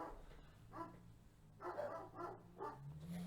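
A dog next door barks in several short bursts, moderately loud but somewhat muffled at a distance, with a steady low hum underneath.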